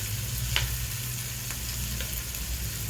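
Onion with green chilli and curry leaves sautéing in a pan for poori masala, a steady close sizzle with a few soft stirring scrapes on top.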